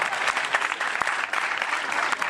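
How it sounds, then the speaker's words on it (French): Audience applause during a speech in honour of the speaker's mother, a brief, full burst of crowd clapping with a few sharper claps poking through, close and even. "Applaudissez pour ma maman"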